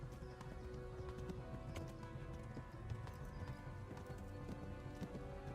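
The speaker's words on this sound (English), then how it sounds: "my horse is running low on stamina." Horse hooves galloping in the video game Kingdom Come Deliverance, a fast steady clip-clop under game music and ambience, quiet and continuous, with a brief whinny.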